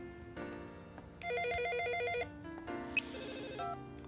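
Electronic telephone ringtone playing a repeating melodic trill in a quiet indoor setting, several bursts of chiming tones over about four seconds with brief pauses, no talking.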